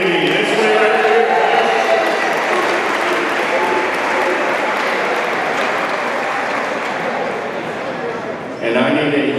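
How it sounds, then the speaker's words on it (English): A large audience at a freshman orientation closing ceremony claps for street hockey champions, loud sustained applause filling the hall for several seconds before an announcer's voice returns at the end. "I need a huge round of applause for your street hockey champions"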